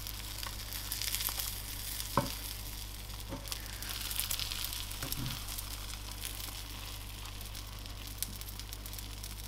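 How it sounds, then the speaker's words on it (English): A cheese and bacon omelette sizzles steadily in a hot wok after being flipped, a continuous bright crackle with a few soft knocks and scrapes, no voices. "Now we just need to flip that over."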